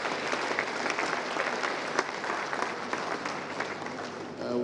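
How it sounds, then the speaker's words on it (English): A full room at an agriculture results fair keeps up a continuous round of clapping for the presenters, steady and moderately loud throughout. "Let's give all our presenters another round of applause."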